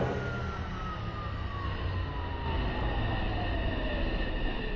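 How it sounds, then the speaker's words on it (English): A train pulls into a station in the video game Roblox, giving a steady loud rumble with a slowly falling whine, continuous and close throughout. "The train is entering the station."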